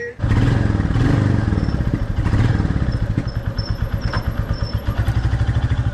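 The engine of a 2025 Royal Enfield Goan Classic 350 runs close by, a loud, even single-cylinder thump that settles into a steady idle putter.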